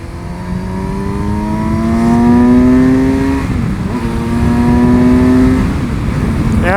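Kawasaki Versys 1000 SE inline-four adventure motorcycle accelerating hard through two gears, its engine note climbing steadily, dropping briefly at a shift around the middle, then rising again; loud, close, continuous, with wind rush and no talking.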